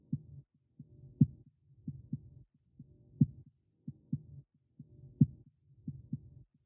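A soft, low rhythmic pulse from a FabFilter Timeless delay layer repeats at a steady, heartbeat-like pace. The thumps come in regular pairs, faint and on their own, with no talk.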